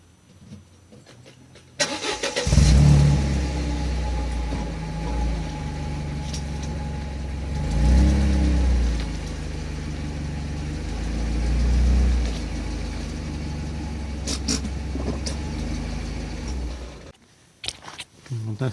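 A 1999 Mercedes-Benz SLK 230 engine starts and runs while the car is moved during brake fluid work, a close rumbling idle that swells and revs a few times before cutting off, with someone talking over it.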